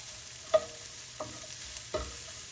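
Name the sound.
onions cooking in a pan for beef stroganoff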